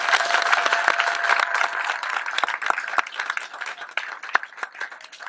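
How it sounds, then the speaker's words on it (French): Crowd applauding at a National Union party rally in Kango, Gabon, with dense, steady clapping and occasional louder individual claps throughout, a faint voice or tone lingering near the start. "Je voudrais qu'on applaudisse pour cela."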